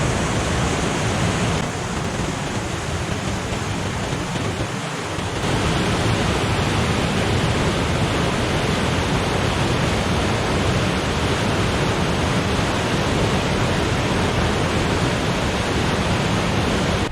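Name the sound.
rushing water of the Orange River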